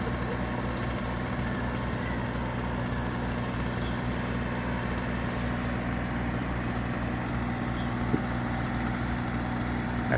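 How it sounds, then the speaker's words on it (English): Backhoe idling and working while pulling down a tree near a house during land clearing, a steady low engine drone with faint creaks, fairly distant and unchanging, with no voices. "Backhoe trying to pull this down without it falling on the house."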